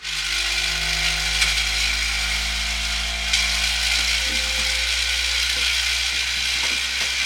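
A Bambu Lab A1 mini 3D printer vibrates as it runs, giving a steady, close mechanical hum with buzzing, rattling tones and faint intermittent ticks.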